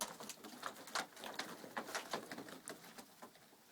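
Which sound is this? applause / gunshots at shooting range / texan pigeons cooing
texan pigeons cooing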